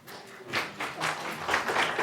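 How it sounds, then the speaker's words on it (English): Audience clapping at a public meeting, a broad burst of applause that swells after a quiet start and carries on steadily throughout, with no talk over it. "Can I ask the audience not to clap?"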